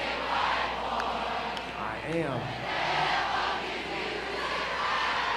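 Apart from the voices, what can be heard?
ballpark crowd cheering at a Banana Ball game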